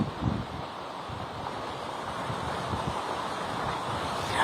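Strong wind from Cyclone Fengal, with gusts reported at 50 to 70 km/h along the Tamil Nadu and Puducherry coast, roars steadily and loudly, buffeting the microphone with a dense, continuous rush and no talk.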